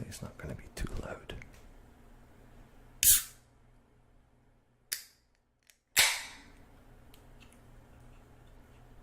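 A beer can is cracked open in a quiet close-up setting: a sharp snap and hiss arrive near the middle, followed by a second fizzy burst, with soft handling noises and faint whispering around them.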